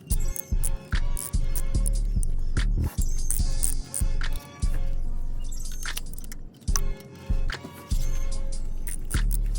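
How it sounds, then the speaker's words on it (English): Close metallic clicking and clanking from a socket wrench comes in short bursts with brief pauses, a ratchet worked by hand during spark plug and ignition coil work, with no talking. "Listen to that socket wrench turn, all clicky and stuff."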